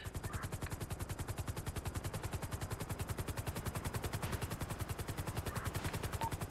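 A rapid, evenly spaced stream of muffled, suppressed automatic gunfire in a shooter game, steady and moderately loud for several seconds, with no talk over it.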